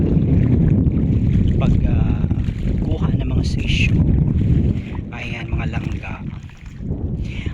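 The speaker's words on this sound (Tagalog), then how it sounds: "tunog ng dagat no tsaka wave ng hangin niya dito" Steady wind and rushing water noise fill the scene, with waves washing and gusts buffeting the microphone throughout.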